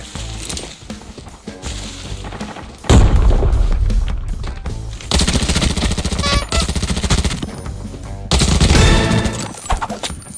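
Heavy automatic gunfire in the shooter game Arena Breakout, with long, loud, rattling bursts, some stretches of single shots, and sharp booming peaks close up.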